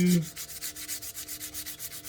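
Sandpaper rubs back and forth over curb rash on a Tesla wheel, a steady rhythm of close, rasping strokes repeating roughly every fifth of a second, with no voices.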